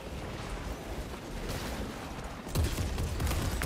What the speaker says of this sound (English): Can you please stop shooting me?